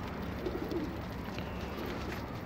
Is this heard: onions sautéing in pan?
no